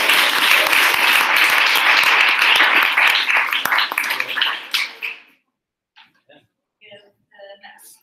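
Audience applause after a group's capstone presentation, a burst of many hands clapping for about five seconds that fades out, followed by a few scattered sounds in near silence.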